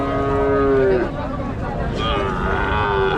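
Sahiwal cattle and calves moo in long, low calls, one after another, at a busy outdoor livestock market with nearby voices.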